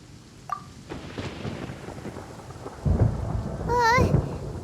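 Thunder rumbles loud and low in Genshin Impact, rolling in over steady rain and growing heavier toward the end, with a brief high chiming game sound near the close.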